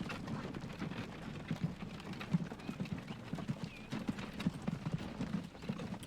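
Horse hooves in the video game Transport Fever 2 keep up an even clip-clop, quiet and continuous, with a light patter under the steps and no voices.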